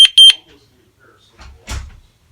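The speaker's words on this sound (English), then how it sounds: "the panel's gonna beep twice" A home security door alarm panel gives two sharp, high electronic beeps up front, followed by soft handling noises and a brief rustle, with no talking.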